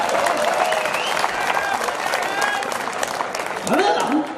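Applause from the audience at a Hindi hasya kavi sammelan, a comedy poetry gathering, sounds as a continuous crowd clapping with voices mixed in.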